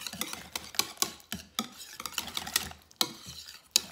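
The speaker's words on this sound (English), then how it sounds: "Gonna mix that up." Spoon stirring salt and garlic powder into a meatball sauce in a bowl, a run of close scraping, clinking strokes repeating every half second or so, with no voices.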